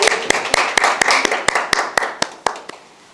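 At a Korean election candidate's press conference, the audience gives a short round of applause with distinct claps in a steady rhythm that thins out toward the end.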